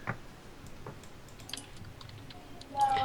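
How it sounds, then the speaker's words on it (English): Scattered computer keyboard clicks, soft and irregular at moderate distance, with a brief voice murmur near the end. "Screw typing this."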